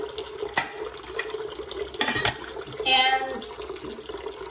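Tap water runs into a sink to soak hats with laundry detergent, a steady close splashing flow with a few clinks and bumps, while a voice speaks briefly over it.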